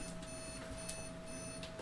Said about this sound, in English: Alarm clock.